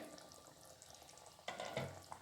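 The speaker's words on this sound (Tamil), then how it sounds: "கொஞ்சமாக தண்ணி ஊற்றி அலம்பி ஊற்றிடுறேன்" A little water poured into a vessel to rinse out ground coconut paste for a sardine curry, a brief splashing pour rising over faint background kitchen noise and a gentle simmer.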